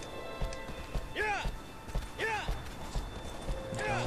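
Horse hooves gallop in the video game Shadow of the Colossus, a rhythmic clip-clop with loud swooping game effects and a voice talking over it.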